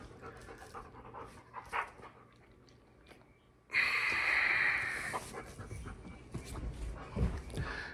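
A dog pants in quick, breathy bursts close by, with a louder, harsher stretch of heavy panting partway through and a few snorts; no talking.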